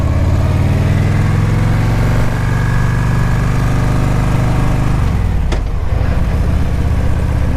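Steady rumble of many motorcycle engines idling and revving nearby at a group ride gathering in Gettysburg, continuous and loud, with a brief sharp click partway through.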